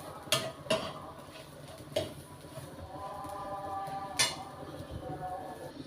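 Grated coconut is roasted and stirred in a pan, with sharp scrapes and knocks of a utensil against metal over a soft, faint sizzle.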